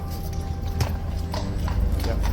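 Horse hooves clip-clop in a quick, even rhythm of several close, sharp strikes, with a crowd murmuring faintly in the background.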